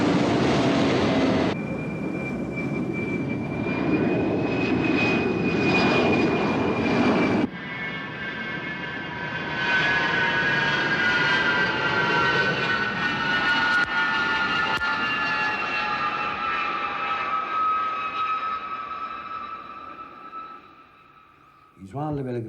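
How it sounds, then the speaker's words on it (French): Air Maroc Boeing 737 airliner passing low overhead near Orly airport, a loud sustained jet roar with whining engine tones that swells then fades over about twenty seconds, with talk over part of it. "Ça, c'est un petit Boeing qui est passé au-dessus de nos têtes. Le Boeing 737 d'Air Maroc, vol 780, atteint 88 décibels."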